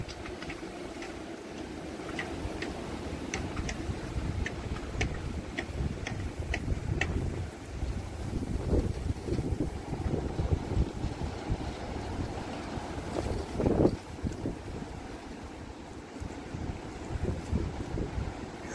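Strong, violent wind blowing outdoors, buffeting the microphone with a rough, rumbling roar that surges and eases, with a faint irregular ticking or tapping running through it and no talking.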